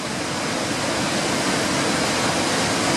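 Victoria Falls roaring as a steady, loud, unbroken wash of falling water near Devil's Pool, with no break or change in level throughout.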